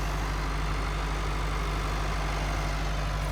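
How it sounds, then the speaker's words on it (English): A tractor idles at the end of an Arctic winter during pine tree collection, its steady, loud low-pitched engine drone running unbroken and alone. "that tractor's running like that"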